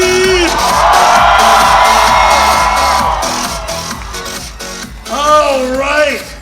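A convention crowd at a Comic Con Africa cosplay championship screams and cheers in a loud, sustained roar. It fades and then swells again as a voice rises over the crowd near the end.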